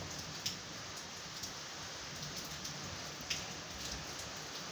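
Steady rain falls outside a guest room, a soft even hiss with a few louder drips now and then, alone and without voices.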